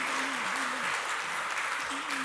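A church congregation claps to welcome visitors during Sunday worship, soft steady applause heard from a distance under a faint sustained tone.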